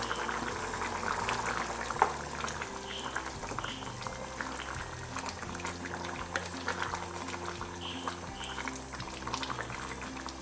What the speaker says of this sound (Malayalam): 1 ടേബിൾ സ്പൂൺ കടലമാവ് ഒരു 3 ടേബിൾ സ്പൂൺ വെള്ളത്തിൽ കലക്കിയത് ഞാൻ ഇതിലേക്ക് ഒഴിച്ചു കൊടുക്കുകയാണ്